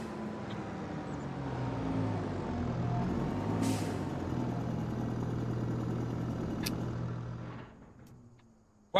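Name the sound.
tractor being parked in Farming Simulator 25 video game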